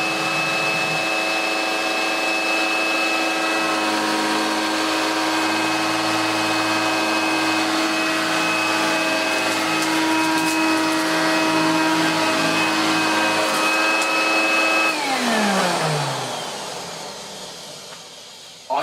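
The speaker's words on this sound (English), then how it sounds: "Let's see if the Hoover can do any better." A Hoover vacuum cleaner runs loud and steady with a constant motor whine, then spins down and fades near the end.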